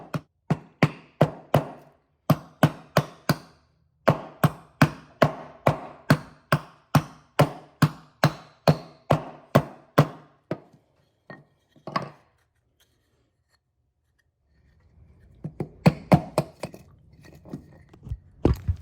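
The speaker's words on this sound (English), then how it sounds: "here I started kind of chopping out the shape with this little hatchet" A little hatchet chops and shapes an Alaskan birch spoon blank, giving a long run of sharp, close wooden knocks at a brisk, fairly even pace, then a pause, a couple of isolated hits and a near-silent gap before quieter, busier knocking resumes.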